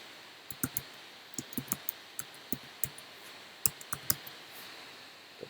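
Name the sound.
typing text on a computer keyboard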